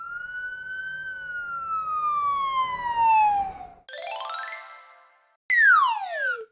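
A police car siren from a toddler cartoon, a smooth electronic wail sweeping down and then rapid rising-and-falling yelps in short bursts, loud and close with no talking.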